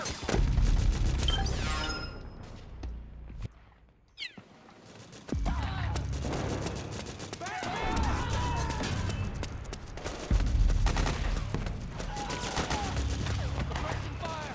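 Rapid bursts of gunfire and heavy combat explosions from Metal Gear Solid 4 on PS3, loud and dense, with a short lull in the middle and shouted voices mixed into the firefight.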